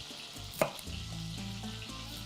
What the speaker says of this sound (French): Puis le beurre qui fond tranquillement.